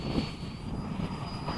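A Freewing 80mm F-5 RC jet with an electric ducted fan comes in to land, its steady whooshing whine moderately loud and fairly close, with no talking over it.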